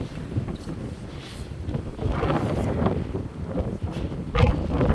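Strong wind gusting hard during a snowstorm, buffeting the microphone with loud rumbling roars that surge and ease over several seconds, continuous and close.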